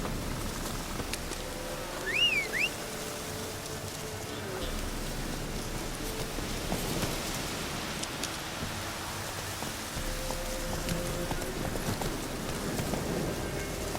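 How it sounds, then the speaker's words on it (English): Steady rain falls in The Witcher 3: Wild Hunt, a continuous wash of patter across the whole stretch, with brief tonal game effects and faint background sounds layered over it. "Looks like rain."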